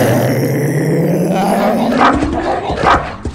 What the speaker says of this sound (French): J'entends d'affreux grognements.